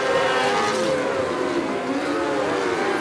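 Sprint cars race down the backstretch of a dirt track, a loud sustained engine roar with layered buzzing tones from several cars at once, steady throughout.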